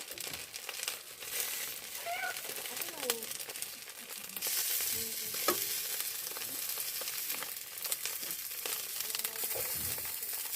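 Fish frying without oil in a covered pan, turned over mid-fry, with a crackling sizzle that grows denser after a lid shifts, plus scraping and clinking of a utensil, close-up and moderately quiet.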